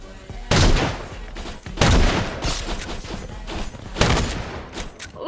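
Rapid bursts of gunfire sound from a sniper duel video game played on Xbox, with several loud, dense volleys in close succession that mask everything else.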